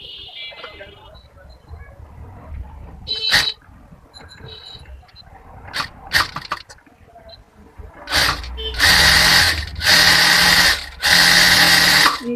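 A sewing machine double-stitches the neck seam of a bra-cut blouse. Scattered clicks and handling noises come first, then three loud, sustained bursts of fast mechanical stitching sound close by.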